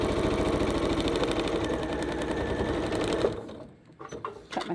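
A sewing machine stitches close up through a quilt seam allowance, a fast, loud, steady mechanical whir that stops abruptly after about three seconds, leaving a few faint handling clicks.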